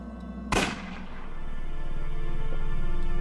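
A single sharp gunshot in the adventure video game Unavowed, one loud crack followed by a decaying tail, with a low steady background hum building afterward.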